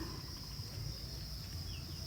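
Dense, steady chirping of many crickets on a cricket farm, a continuous high trill with a low rumble beneath and no talking.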